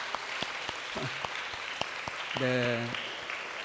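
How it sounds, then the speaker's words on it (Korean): Church congregation at a Sunday service applauds to welcome two sons returning from study in the US and Japan; scattered claps with a brief spoken word and a voice near the end. "우리 박수로 같이 환영할까요?"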